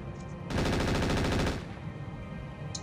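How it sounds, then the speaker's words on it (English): Sustained burst of machine gun fire from a BattleTech mech battle, loud and dense for about a second of rapid repeated shots, then dropping back to low rumbling background. "Machine guns."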